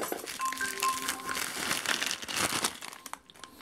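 Plastic packaging from a parcel shipped from China crinkles and rustles close up as it is opened, a steady stretch of crackly handling noise with no talk over it.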